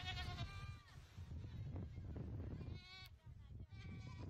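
Goats rescued from a Southern California wildfire bleat in a few wavering cries, at the start and again near the end, mixed with voices and outdoor noise.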